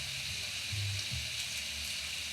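Bacon fries in a pan with a continuous, bright crackling hiss, steady and close throughout, alone without talking.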